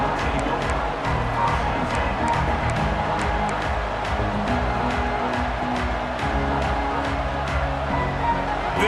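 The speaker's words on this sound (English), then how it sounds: "This crowd ready to make its presence known." A stadium crowd in a college football video game roars and cheers steadily at high volume throughout, with play-by-play commentary talking over it.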